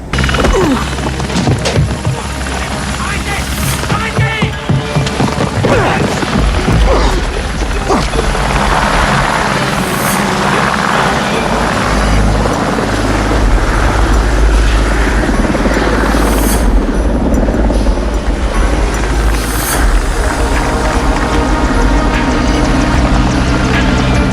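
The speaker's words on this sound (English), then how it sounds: "The first working prototype of the Tiger helicopter." A Tiger military attack helicopter flying close and loud, its rotor thumping steadily and its engine roaring without a break.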